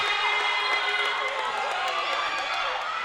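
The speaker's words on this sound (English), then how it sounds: "The crowd is coming alive." Basketball crowd in a women's college game swelling with cheers and shouts, a dense continuous roar of voices filling the gym at steady loudness across the moment.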